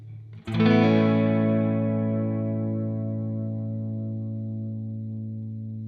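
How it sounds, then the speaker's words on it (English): A single strummed guitar chord played through a Valeton GP-200 multi-effects unit with a wobbling modulation effect. It rings out loud and slowly fades as the wavering shimmer carries on through the decay. "You can hear the wobble coming out as your chord diminishes."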